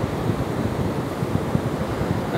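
Sea waves washing onto the beach at Praia do Presídio, Ceará, a steady loud rush of surf mixed with wind buffeting the microphone, no voices.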